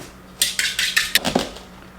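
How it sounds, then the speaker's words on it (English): A whisk rattles rapidly against the side of a bowl as eggs are beaten, a quick burst of close metallic clicks and scrapes lasting about a second. "Get our bowl, put our eggs in, and whisk them up a little bit."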